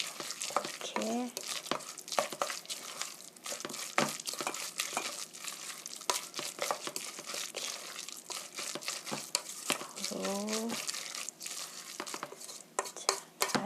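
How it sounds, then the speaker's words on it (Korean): Ground beef mixture stirred steadily in one direction in a bowl for a beef roll, a continuous sticky scraping and squelching with occasional clinks, close and moderately loud, with a brief spoken word. "한 방향으로만 이렇게 계속 저어주세요."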